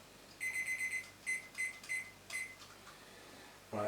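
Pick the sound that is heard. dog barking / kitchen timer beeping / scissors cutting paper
kitchen timer beeping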